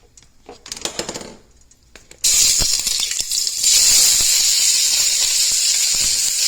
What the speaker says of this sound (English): So we're going to go ahead and let that go in and start browning up.